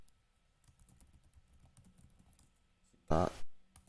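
Light clicks and taps of typing on a computer keyboard, quiet and close, with a brief burst of louder noise near the end.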